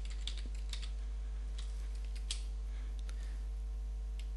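Typing on a computer keyboard while entering a formula into a spreadsheet, heard as a few sparse, faint key clicks scattered over a quiet background hum.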